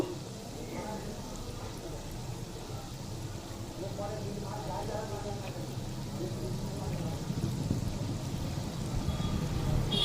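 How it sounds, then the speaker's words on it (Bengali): Lentil fritters for dahi vada frying in moderately hot oil, a soft, steady rain-like crackle and hiss that builds a little toward the end, with faint clatter in the background. "উল্টে পাল্টে আমি ভালোভাবে ভেজে নেব।"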